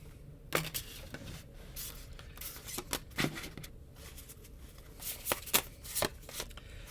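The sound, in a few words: tarot cards being picked up and shuffled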